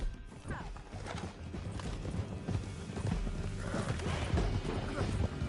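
Rapid hoofbeats clatter in a steady galloping rhythm under busy game sound effects and music, with a horse whinnying briefly.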